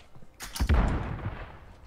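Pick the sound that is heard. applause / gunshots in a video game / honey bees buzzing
gunshots in a video game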